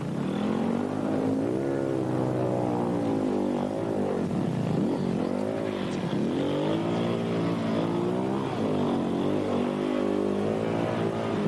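A Husaberg dirt bike engine revs hard close by as the throttle is wound on and the rear wheel sinks. The buzzing pitch keeps climbing and falling in repeated throttle blips, with no voices.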